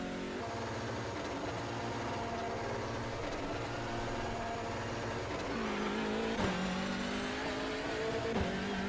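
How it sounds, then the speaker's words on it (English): Racing video game car engine revving hard and continuously, a steady loud drone with rising and falling pitch sweeps toward the end, no talk over it. "I'm sitting here revving my engine like crazy."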